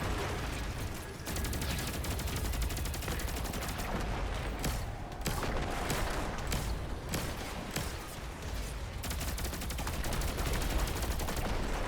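Video game gunfire as rockets and a turret are shot, a dense, loud barrage of rapid shots and blasts running nearly without pause.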